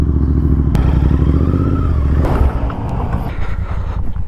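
A vehicle with Karnataka registration passes close by during the Rann Utsav in the white salt desert, its engine a steady drone with some rattling and clatter, loud and continuous with no one speaking.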